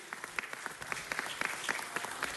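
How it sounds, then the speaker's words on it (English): A crowd at a city council meeting applauds steadily, many hands clapping together in a dense, continuous patter that holds at an even level throughout. "Give him a big round of applause."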